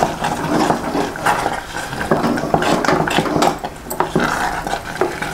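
A spoon scrapes and knocks steadily against a pot as a sweet prasadam dish is stirred together with fried cashews, raisins, coconut, cardamom powder and a pinch of salt, with continuous close clinks and no talking.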